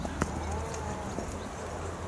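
Horse hooves clip-clopping on the ground of a round pen, a few scattered hoof thuds over a steady, noisy outdoor wash, moderately close.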